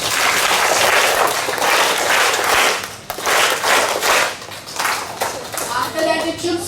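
Loud bursts of clapping from children at a school assembly in a noisy room, hands slapping together in three quick clustered rounds of three claps, with some chatter mixed in.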